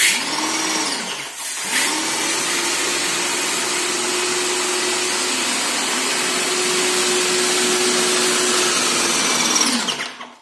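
A Wagner paint sprayer motor runs with a steady, close electric whine, cutting out briefly near the start, then resuming and running continuously until it stops at the end.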